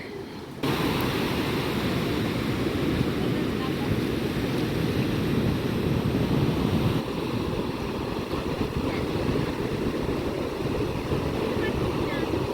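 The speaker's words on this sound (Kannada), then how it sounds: "ಇವತ್ತು ತೆರೆ ಮಾತ್ರ ಸಖತ್ತಾಗಿ ಬರ್ತಾ ಇತ್ತು" Ocean waves break one after another on a beach, a dense continuous roar of surf mixed with wind buffeting the microphone, loud and unbroken throughout.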